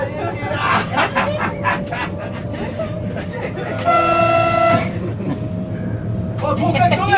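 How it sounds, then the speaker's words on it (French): A vehicle horn gives a sustained honk midway through, rising out of busy crowd chatter and background rumble; people talk throughout. "Oh, trop klaxonné, hein."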